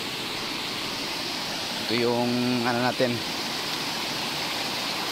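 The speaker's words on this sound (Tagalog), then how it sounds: "malakas ang ulan" Heavy rain falling outdoors, a steady loud hiss that fills the whole stretch, with a person speaking briefly over it partway through.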